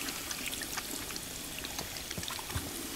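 Running water from a tap pours steadily during handwashing in a gas station bathroom in the video game Life Is Strange 2, a continuous close splashing hiss for the whole stretch with no talk.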